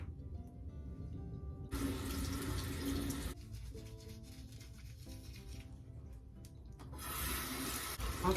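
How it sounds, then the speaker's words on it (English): Warm water runs from a bathroom tap for washing the face, a steady splashing stream in two louder bursts with quieter trickling and clinks between, close by with no talking. "Okay, now I go ahead and take my washcloth. And I just use warm water and wipe my face."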